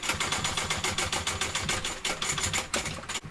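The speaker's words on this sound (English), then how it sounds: "we're sewing this with the seam allowance given in the pattern" Sewing machine stitching the gusset seam of a fabric handbag, a steady rapid needle rattle running continuously and fairly loud, with a brief pause near the end.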